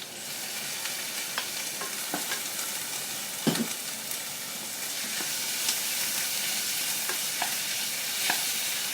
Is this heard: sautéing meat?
yes